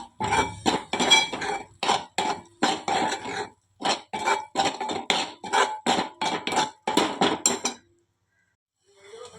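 A spoon stirs turmeric, homemade masala and Byadgi chilli masala in a metal pan for a prawn and potato dish, giving a steady run of close, sharp scraping clinks before a short pause.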